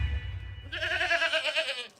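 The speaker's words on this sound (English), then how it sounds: "You are scaring the goats." Goats bleat in a wavering, sustained cry lasting about a second, heard close and clear after a brief low rumble.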